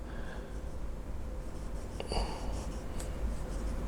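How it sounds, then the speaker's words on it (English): A Moonman mini80-E fountain pen with a fine nib, loaded with Pelikan Royal Blue ink, writes cursive on paper, giving a soft, continuous scratchy rustle over steady background hiss. "I'm just gonna attempt to write some cursive"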